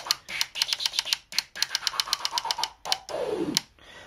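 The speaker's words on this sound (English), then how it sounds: "that sounds very similar to a scratch" Rapid choppy bursts of mixer noise cut with a DJ crossfader while the noise knob is swept, a fake scratch effect of quick stuttering hits ending in a longer falling whoosh, alone with no talk.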